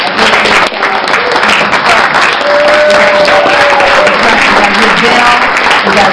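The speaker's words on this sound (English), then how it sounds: "give a good round of applause to our embassy team" Loud, sustained round of applause from a crowd at a Transatlantic Inclusion Leaders event in Copenhagen, Denmark, dense clapping throughout with voices mixed in.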